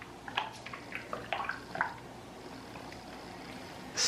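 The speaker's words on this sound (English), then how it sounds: "So we will pour our first layer into our big slab mold" Thick, midnight-blue soap batter scented with fragrance oil pours into a large slab mold, giving soft wet squishes and drips in the first half, then quieter settling with a brief louder rustle at the end.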